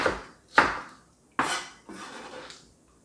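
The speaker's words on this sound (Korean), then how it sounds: "총총총 이렇게 썰어주세요" A knife chops vegetables on a board for spicy duck bulgogi, giving three or four distinct close knocks with short rubbing scrapes between them.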